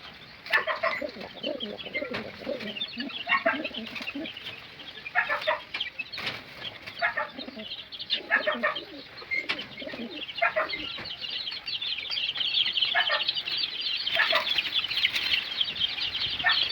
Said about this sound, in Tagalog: Lilipat natin yung dalawang ibon natin dito.